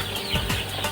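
Young layer chickens on a poultry farm cluck in short, close bursts, a few overlapping calls rising over a steady background hum of the shed.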